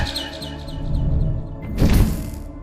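In the horror video game Garten of BanBan, a bird chirps in a quick series of short tweets over a low ambient drone, followed by a louder burst of noise and thud near the end.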